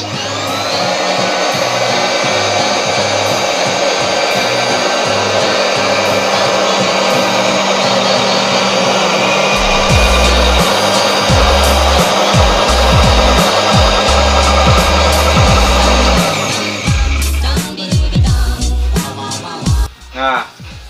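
A fabric cutting machine slices through cloth along a pattern in a clothing workshop making distro shirts, a loud continuous motor whine with rasping cutting noise that runs steadily, then breaks into choppy, irregular bursts toward the end.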